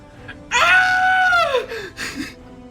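A man lets out a loud, drawn-out theatrical scream that rises and then falls away, followed by a couple of shorter fading cries, with no other sound around it.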